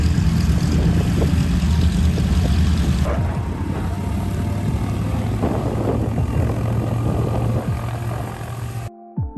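Aircraft at the Oshkosh 2021 airshow, with a loud, steady engine and propeller drone that fills the air, a low rumble underneath and shifting mechanical noise, ending abruptly; no talking.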